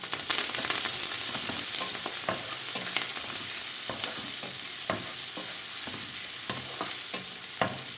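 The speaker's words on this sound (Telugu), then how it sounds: "ఇలా ఫ్రై చేసుకోవాలి." Urad dal, cumin, mustard seeds, curry leaves and onion frying in a pan for a ridge gourd peel chutney, a steady broadband sizzle with repeated stirring scrapes and taps throughout, close and alone with no talk.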